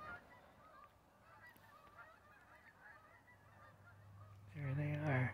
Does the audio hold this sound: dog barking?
no